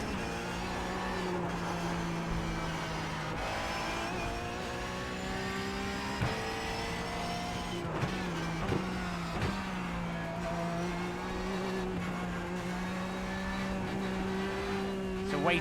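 Race car engine in the iRacing simulator, a steady droning drone with repeated throttle blips and gear-change dips, continuous and moderately loud throughout.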